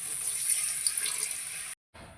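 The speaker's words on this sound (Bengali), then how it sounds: "এবার এর মধ্যে দিয়ে দেবো জল" Water pours into a pan of spices fried in oil for a fish curry, a steady close rushing stream that briefly cuts out near the end.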